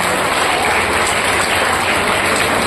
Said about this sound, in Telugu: ఆయనకి బిగ్ క్లాప్స్ అందరు కూడా